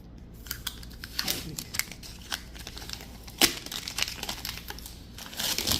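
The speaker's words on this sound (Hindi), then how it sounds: "जब ये उतारेंगे इस वाइट स्टिकर वाली साइड से तो बहुत एहतियात से उतारना है आपने" A printed sticker sheet is slowly peeled away from its white backing, producing irregular close crinkles, crackles and small tearing snaps scattered throughout.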